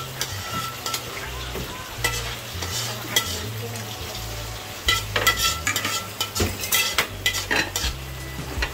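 Busy kitchen noise: tilapia frying in sizzling oil with stirring and clattering utensils, a steady crackle broken by sharp metallic knocks, no voices.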